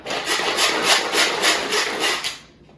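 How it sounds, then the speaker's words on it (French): A knife saws back and forth through an ingredient on a board while making pizza, giving steady rhythmic rasping strokes, close and fairly loud, that stop abruptly near the end. "Ici, je vais le couper en deux, ça va être plus facile"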